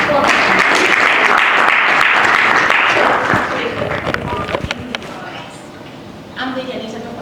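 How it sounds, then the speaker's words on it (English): An audience at a philanthropy awards and world summit bursts into loud, dense applause that fades after a few seconds, with speech and a few scattered claps continuing underneath. "Let's give a round of applause."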